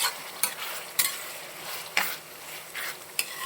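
Pork curry being stirred in a hot pan, a soft steady sizzle broken by several sharp scraping strokes of a spoon against the metal at uneven intervals, close and fairly quiet with no talk.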